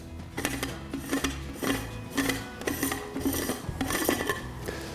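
A soil recovery auger is unscrewed by hand, giving loud, repeated rasping and grinding scrapes in a steady rhythm of strokes, close up and with no talking.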